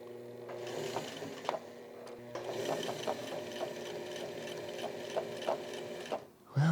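A sewing machine stitches a placket on a band-collar button-up shirt, running in short mechanical bursts with brief pauses between them, moderately close and steady, ending with a sudden loud knock.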